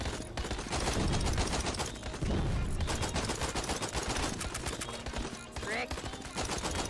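Rapid, dense gunfire in the Out of Ammo VR video game: continuous loud bursts of automatic shots with sharp cracks layered together, barely letting up across the whole stretch.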